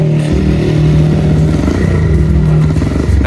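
A Kawasaki KLX 150 supermoto motorcycle engine runs loud and close, idling with a rough, rapid pulsing thump and mechanical clatter before a brief rev near the end.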